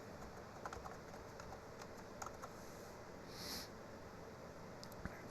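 Sparse clicks from a clicky computer keyboard as a few keys are pressed, quiet and close over a steady background hiss with no talking.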